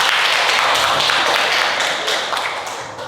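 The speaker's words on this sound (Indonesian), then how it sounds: "Tepuk tangan." Children in a classroom clap together in a dense, close burst of applause that holds for a few seconds before tapering off.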